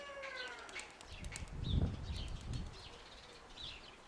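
Pigeons burst into flapping wings after being startled by a kite, a short flurry of wingbeats rising to a peak midway, with small birds chirping faintly in the background.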